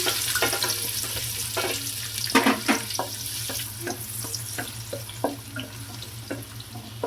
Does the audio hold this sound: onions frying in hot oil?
yes